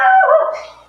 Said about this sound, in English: You will never come to this house and not get barked at.